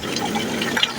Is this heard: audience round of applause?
no